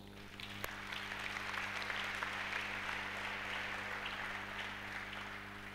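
A church congregation applauding together, a dense sustained clapping from many hands that fills the room evenly over a low electrical hum, faint and slightly distant throughout.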